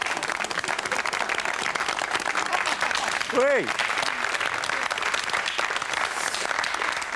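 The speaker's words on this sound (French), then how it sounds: "Applaudissements. C'est maintenant." A television studio audience applauds on cue, dense sustained clapping filling the whole stretch, with a brief sung or drawn-out voice rising over it midway and a short spoken word.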